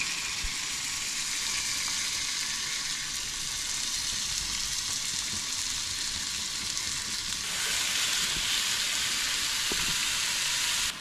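Chicken pieces sizzle on an oiled tawa for butter chicken, a steady hissing fry that swells noticeably louder partway through, with a few faint pops.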